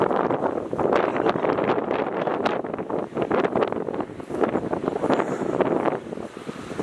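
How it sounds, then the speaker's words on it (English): Strong wind gusts outdoors batter the microphone with loud, continuous buffeting and roaring bursts throughout, with no clear speech. "Yeah, it's super windy and tight in here."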